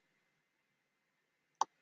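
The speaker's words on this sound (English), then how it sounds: "I'm going to right click" A single sharp computer mouse right-click while designing DIY wedding invitations, one crisp, close tick near the end after near silence.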